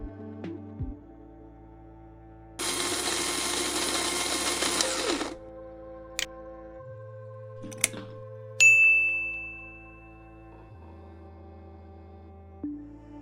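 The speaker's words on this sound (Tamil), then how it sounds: "வறுத்ததும் மிக்ஸி ஜாரில் போட்டு நல்லா பொடி பண்ணிக்கோங்க." A mixer grinder jar whirs loudly for about three seconds as it powders roasted cashews and chillies in a home kitchen, then cuts off, leaving a low hum and a few short clinks and a ding.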